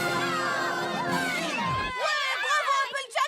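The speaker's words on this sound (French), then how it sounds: "Applaudissez Applejack" A cartoon crowd of ponies from My Little Pony cheers loudly, with high, excited shouts and whoops over a sliding musical tone that drops away midway, followed by lively overlapping voices.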